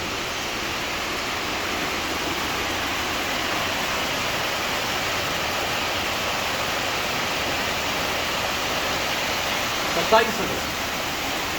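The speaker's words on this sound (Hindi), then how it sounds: "मेरे गीत सुनने की बजाय आप 2 पल के लिए जरा झरने के गीत सुनिए।" Continuous broadband rush of falling water from a waterfall, steady and fairly loud with no pauses, a brief faint tap near the end.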